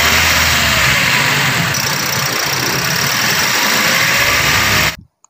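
A 2017 Toyota Vios 1.5 engine with a rough idle, vibration and low power runs loudly and continuously up close, with a droning tone that stays fairly even and then cuts off abruptly near the end.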